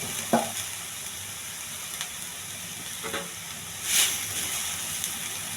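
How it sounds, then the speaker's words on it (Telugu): Mint, coriander and tomatoes cooking down in a pan for chutney, with no water added, give a steady soft sizzle and simmer throughout, with a few faint utensil clinks and a brief louder burst near the end. "పుదీనా కొత్తిమీర కూడా వేసేయాలండి. ఇవన్నీ బాగా మగ్గనివ్వాలి."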